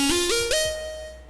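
Harsh, bright homemade synthesizer playing three quick rising notes, buzzy and rich in overtones, the last one held and slowly fading, with nothing else in the mix.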